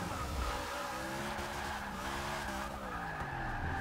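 A 1000 HP Z/28 Camaro brakes hard in Forza Motorsport 6, its tires giving a sustained, loud screeching skid over a continuous engine drone, with the pitch wavering throughout.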